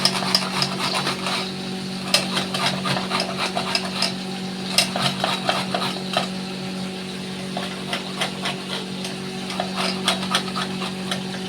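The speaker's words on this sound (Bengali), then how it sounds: "মা আদাটাকে ভালো করে ঘষে নিচ্ছে।" Fresh, fibrous ginger rubbed hard against a hand grater in a home kitchen while making chana dal, a run of uneven rasping strokes close by over a steady low hum, no voices.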